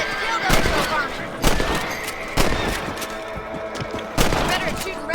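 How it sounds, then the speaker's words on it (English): Rifle shots at rabbits in the Western video game Red Dead Redemption, five sharp, loud cracks spaced about a second apart over a steady ambient bed, with horse sounds and talk nearby. "Better at shooting rabbits than outlaws, I feel."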